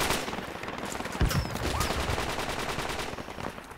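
Sustained automatic gunfire in a squad-based military shooting video game, with dense rapid bursts and overlapping shots that stay loud throughout.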